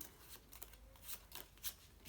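Playing cards for the game Lair of Darkness are shuffled quietly up close, a series of soft riffling and flicking bursts at an uneven rhythm.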